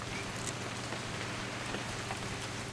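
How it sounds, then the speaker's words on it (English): Steady rain falls throughout a scene in the video game What Remains of Edith Finch, a constant soft hiss of drops with no voices over it. "It's gonna rain the whole weekend, isn't it?"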